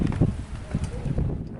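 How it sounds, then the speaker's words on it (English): Steady wind buffeting the microphone on top of an old harbor fort, a constant low roar with gusting swells, and faint voices mixed into the rumble. "A little windy today."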